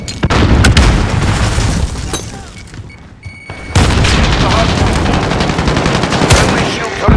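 Dense bursts of automatic and single-shot gunfire from a Call of Duty: Modern Warfare (2019) multiplayer match, loud and close, with rapid volleys and heavy booming reports that briefly ease before erupting again.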